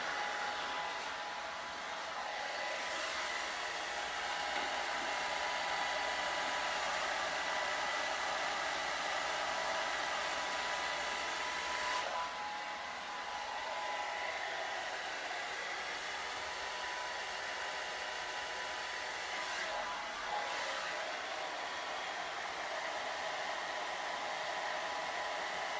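A hair dryer blows steadily at close range while drying curly hair, a constant loud airy whoosh with slight shifts in tone as it moves, and no voices.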